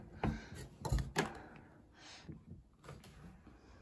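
A ceiling-mounted attic hatch door in a house opens with a few knocks and thunks, then a soft creaking slide, close by and fairly loud, with no talking.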